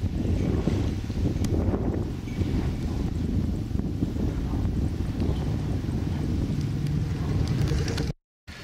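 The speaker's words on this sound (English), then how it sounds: "This is the harbour." Steady outdoor ambience of a harbour on Corfu with idle rental boats moored, heavy wind rumble across the microphone and faint water and knocking sounds, no talking.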